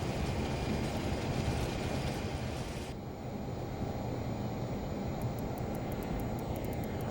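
A Learjet taxis across a remote, unpaved dirt airstrip, its jet engines giving a loud, steady broadband roar that fills the whole stretch without a break.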